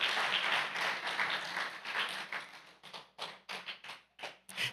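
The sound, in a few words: congregation applause, loud clapping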